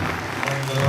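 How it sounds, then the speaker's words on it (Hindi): An audience at a company co-founders' celebration in Hyderabad claps loudly, a dense, close burst of applause lasting under a second. "आप लोग नदीम सर के लिए जोरदार ताली बजाइए"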